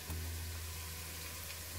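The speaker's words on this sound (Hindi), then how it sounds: "सबको फ्राई कर लेंगे।" Chopped green chillies and a few whole dried red chillies frying in oil for kadhi, a brief, even sizzle over a low steady hum.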